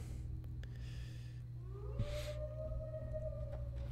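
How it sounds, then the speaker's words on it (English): A wolf howls in Skyrim, a single long rising-then-steady call held for about two seconds over a constant low hum, moderately distant and unaccompanied by speech. "creepy wolf howl"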